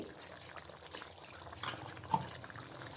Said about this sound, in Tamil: கொஞ்சமாக மிக்சி ஜாரில் தண்ணி ஊற்றி அலம்பி ஊற்றிடுறேன்